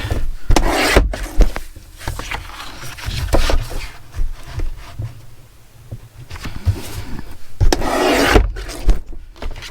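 A wooden picture frame piece is trimmed straight for a steampunk craft, with close, loud rasping and rubbing strokes in irregular bursts and short pauses between them.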